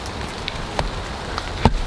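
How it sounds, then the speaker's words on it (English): Heavy rain pours down outdoors on a wooded hiking trail near Dorseys Knob, a dense continuous patter with a few louder close drop impacts, heard from shelter beneath a tree. "because it's raining bullets out here."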